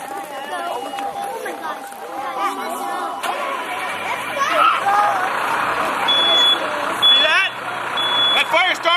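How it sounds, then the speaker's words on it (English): During a fire department's live fire demonstration, a smoke detector sounds in repeated short, shrill beeps that grow regular toward the end, heard over steady crowd chatter and talking outdoors. "And that detector's going off already."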